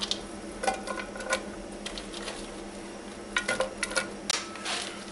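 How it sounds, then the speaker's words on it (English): Chopped onions land in melted butter in a pan, giving a soft sizzle with scattered clinks and scrapes of utensils against cookware, moderately close and without talk. "add your chopped onions"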